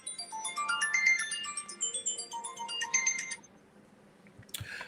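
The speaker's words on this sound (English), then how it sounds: "your phone's making all sorts of noises." A mobile phone chiming out a run of bright, melodic electronic notification tones for about three seconds, then a brief clatter at the end, with no talk.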